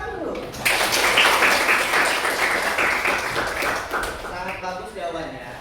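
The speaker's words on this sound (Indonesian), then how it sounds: "Tepuk tangan dulu." Applause fills a classroom, starting abruptly and staying steady and fairly loud throughout, with voices mixed into the clapping.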